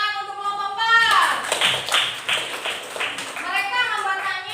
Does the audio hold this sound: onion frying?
no